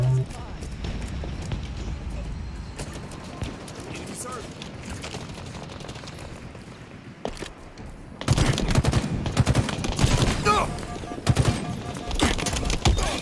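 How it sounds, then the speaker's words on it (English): Gunfire in a video game, first a quieter stretch of scattered shots, then dense, loud rapid bursts of automatic fire in the latter half, with voices speaking. "I'm shooting at a dead guy"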